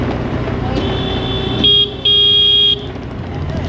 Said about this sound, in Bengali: হর্নের যে আওয়াজ তার থেকে ব্রেকের আওয়াজ বেশি।